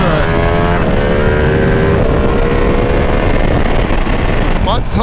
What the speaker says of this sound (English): Man, we got all the bikers rolling out, dude.